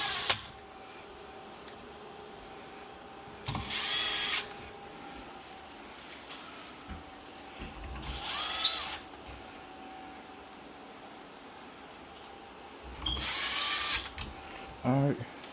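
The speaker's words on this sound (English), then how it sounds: "So my little drill." Small power drill driving screws while an 85-inch TV wall mount is installed, three short whirring bursts separated by quiet pauses, with a ratcheting click near the end.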